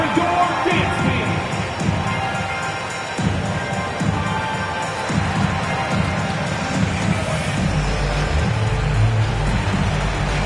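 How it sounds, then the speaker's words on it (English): Stadium crowd at a regular-season football game cheering and roaring for the dance team, a dense sustained wash of voices with shouts and band-like tones underneath, loud throughout. "Please give a big round of applause for your dance team."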